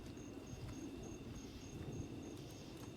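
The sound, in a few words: crickets chirping in the background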